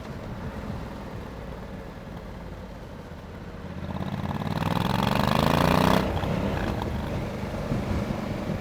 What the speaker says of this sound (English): exhaust sounds really nice through this little setup